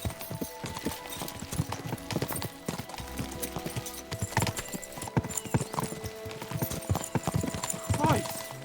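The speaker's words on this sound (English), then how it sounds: "We should spur the horses on." Horses gallop in Kingdom Come Deliverance II, their hooves beating a fast, steady clip-clop under voices and background sound, with a brief whinny near the end.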